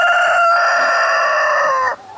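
Chickens on a homestead give one loud, close, sustained call, close to a crow, lasting almost two seconds before it cuts off abruptly.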